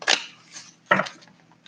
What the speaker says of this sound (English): I'm just going to shuffle the cards here really good.